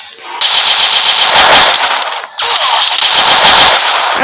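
Loud rapid automatic gunfire in the mobile shooter Free Fire, a dense continuous rattle that breaks off briefly midway and then resumes just as intensely.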